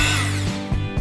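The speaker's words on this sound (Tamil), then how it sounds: "இதை நம்ம மெதுவாக பீட் பண்ணி எடுத்துக்கலாம்" Electric hand beater whipping about 250 ml of cream for cake, a close, loud, steady motor whine with harmonic tone that dips and surges briefly near the end as the beaters shift, with no talk.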